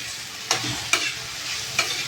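Grated potato, green chilli and sago fry in ghee for sabudana khichdi, a steady close sizzle broken by three sharp scrapes of stirring.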